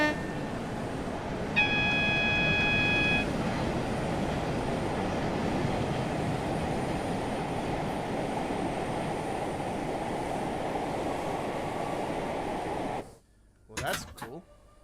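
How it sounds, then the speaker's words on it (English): Steam locomotive in Train Sim World 4 rumbling steadily and loudly, with a brief whistle-like tone early on, before cutting out near the end to a few short noises. "It's a steam train."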